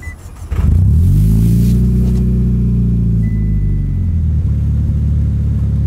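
A Mitsubishi Lancer Evolution engine with an SST gearbox fires up and revs, holding a loud, rumbling drone that rises and falls slightly for several seconds. No voices.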